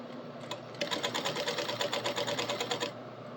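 A sewing machine runs a short burst of fast, even stitching along a quilt's binding edge, a close rhythmic needle clatter that starts and stops cleanly.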